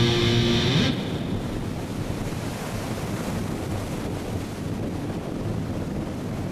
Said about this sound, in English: Pretty crazy waves here today.